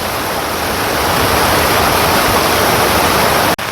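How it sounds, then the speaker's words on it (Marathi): Fast, heavy floodwater rushes over a bridge after rain, a continuous loud broadband roar close by that holds steady throughout and breaks for an instant near the end. "जोरात पाण्याचा स्पीड बघा किती आहे"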